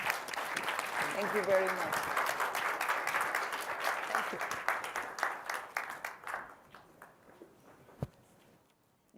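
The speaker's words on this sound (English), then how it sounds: "Let me ask you for a big applause to the panelists" Audience applause for the panelists at the close of a climate and health side-event session, steady clapping for several seconds that thins and fades out, with a brief word of thanks spoken over it.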